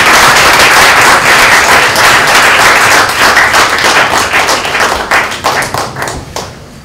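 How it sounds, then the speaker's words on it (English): A lecture audience gives loud, dense applause with many hands clapping together, steady for several seconds before thinning out and fading at the end. "So please, big applause for the audience."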